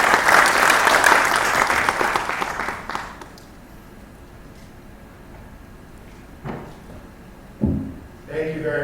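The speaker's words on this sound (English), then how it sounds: "with a round of applause." An audience breaks into applause at a cyber security conference as the U.S. Ambassador to Ghana is welcomed; dense clapping lasts about three seconds then dies away, followed by quiet room noise, a few knocks and brief voices.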